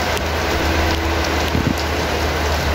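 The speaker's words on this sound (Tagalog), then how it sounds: "medyo malakas ang ulan" Heavy rain pours down steadily in a dense, loud, unbroken wash of noise, with a low rumble underneath and a faint brief tone partway through.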